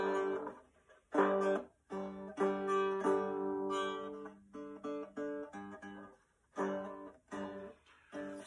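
A cigar box guitar tuned G D G is strummed and plucked alone in cold outdoor air, its chords ringing in short bursts with brief pauses between them, fairly quiet and close.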